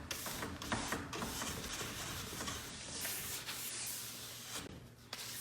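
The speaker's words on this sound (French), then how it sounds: "je vais finir en polissant avec ma brosse de nylon" A nylon brush polishes the base of a classic cross-country ski: soft, steady rubbing and swishing that runs unbroken and faint, with no speech.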